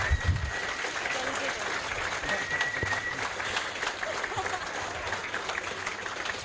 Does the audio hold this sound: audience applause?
yes